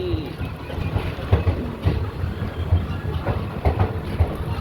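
A train rolls into New Jalpaiguri (NJP) station, its wheels giving a steady, rhythmic clickety-clack of low thumps over a constant rumble, heard from inside the coach with no talking.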